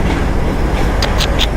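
A goods train hauling lorries on flat wagons rolls past close by, a loud steady rumble of wheels on rails with a few sharp clacks near the end.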